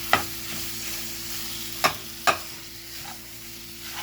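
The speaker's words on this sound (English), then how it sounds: "now I'm going to brown this in the same skillet" Sausage browns in a skillet with a soft steady sizzle, broken by a few sharp clacks of a utensil stirring against the pan, close and quiet.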